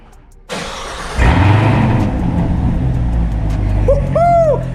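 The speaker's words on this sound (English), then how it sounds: "What's great about the auto is I can do the cold starts from outside the car." A modified Corvette with an automatic transmission cold-starting, heard from outside the car: a brief cranking followed by the engine catching into a loud, rough, steady high idle with a whining rise near the end.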